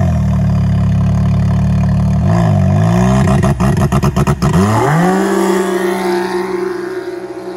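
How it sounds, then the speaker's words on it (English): A Can-Am Maverick X3 fitted with an EVO Powersports exhaust pipe drives by, loud and close, its engine rumbling, then surging and sweeping past before fading as it pulls away. "Alright, let's head out to the road and do some drive-bys"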